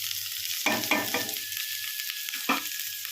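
Onion, green chillies and spices sizzle and crackle steadily in a hot pan for mugh dal, with a few louder stirring scrapes and clanks close by, no talking.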